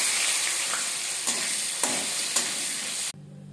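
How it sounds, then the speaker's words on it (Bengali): Chunks of paneer fry in hot oil tinted with turmeric, giving a steady, close, loud sizzle with a few clinks of a utensil stirring the pan before the sizzle abruptly drops to a quieter hiss. "গরম তেলে পনিরগুলোকে একটু হালকা করে ভেজে নেব।"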